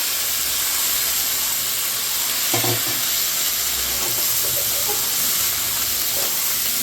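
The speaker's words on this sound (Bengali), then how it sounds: "এবার বাঁধাকপিটা দিয়ে দেবো।" Sliced cabbage goes into hot frying spiced masala in a home kitchen pan, producing a steady, loud, close sizzle and hiss with a few soft stirring scrapes partway through.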